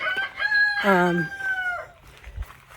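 A rooster crows loudly and close by, a long drawn-out call over lower clucking from other chickens nearby.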